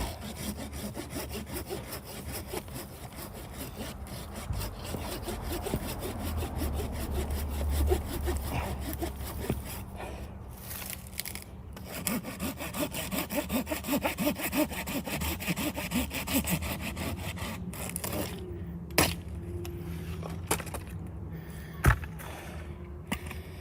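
Hand saw cutting through wood with steady back-and-forth strokes, loud and close, the rhythm broken by short pauses near the end.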